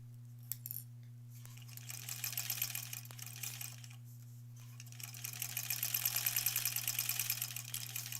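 A sewing machine stitches a pieced quilt block in short bursts, its fast rhythmic needle chatter starting and stopping, fairly quiet against a steady low electrical hum.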